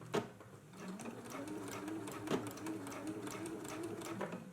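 A sewing machine runs in short bursts, stitching elastic onto a bodice, its rapid mechanical chatter close and steady with brief pauses between runs.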